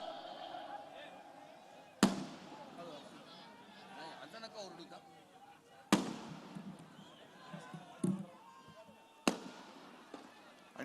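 Firecrackers burst at an outdoor political rally in Nashik: three sharp, loud bangs spaced a few seconds apart cut through a continuous amplified speech.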